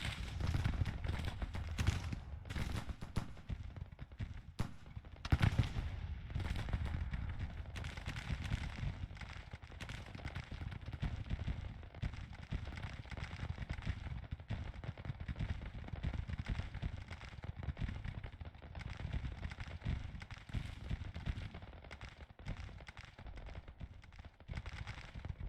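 Musket and artillery fire in the Civil War strategy game Grand Tactician: a continuous, fairly quiet crackle of scattered gunshots and dull thumps, with a few sharper reports standing out near the start.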